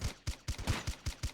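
Pistol shots from the video game Ghost Recon fire in quick succession, about seven sharp, evenly spaced cracks, fairly faint and with no talking.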